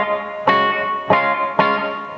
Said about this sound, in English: you can hear just a little bit of breakup